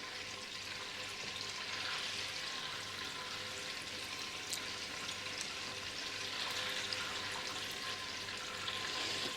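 Butter browning in a pan gives a steady, moderately loud sizzle and frying crackle that holds evenly throughout with no speech.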